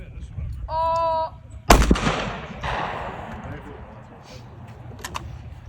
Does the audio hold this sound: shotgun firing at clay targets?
yes